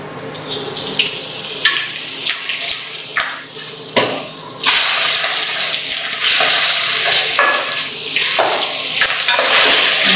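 Green chilies and curry leaves fry loudly in hot oil for potato bread rolls, a dense, steady hiss that surges louder midway, with a few stirring scrapes early on.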